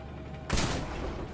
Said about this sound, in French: Zachary, le pistolet tactique, c'est d'une violence